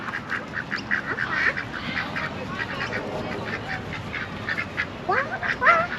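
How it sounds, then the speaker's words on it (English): Several ducks quack in a steady, busy scatter of calls close by, with louder bursts near the end, heard outdoors at a theme park during a marathon event amid background bustle. "How many ducks are there?"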